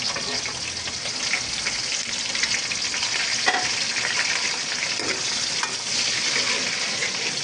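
Sliced onions frying in the oil left from frying chicken for biryani, a loud, continuous close sizzle with occasional stirring scrapes, steady throughout and no voices.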